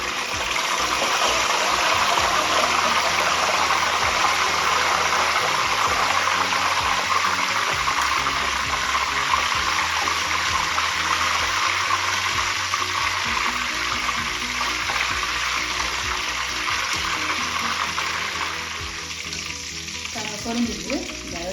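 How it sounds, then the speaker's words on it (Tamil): Dried red chillies frying in hot oil, a loud dense bubbling sizzle heard up close that holds steady and then eases slightly near the end, with no talking. "இப்போ தான் காஞ்ச மிளகாயை பொரிச்சு எடுக்க போகிறேன்"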